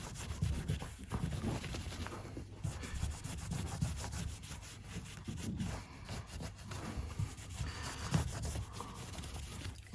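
Fine wire wool rubs steadily over a part of a 1980s Raleigh Mag Burner Lite bicycle under restoration, a continuous close scratchy scrubbing with slight back-and-forth rhythm and no talk.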